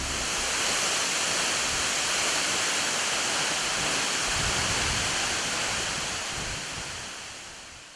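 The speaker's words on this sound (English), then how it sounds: "Such a beautiful waterfall" Waterfall near Mount Afajato in Ghana, a loud, continuous broadband rush of falling water that holds steady and then fades slightly toward the end, with no voices.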